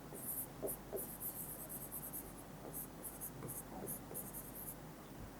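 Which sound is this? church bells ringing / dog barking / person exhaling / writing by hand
writing by hand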